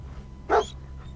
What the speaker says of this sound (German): Hund.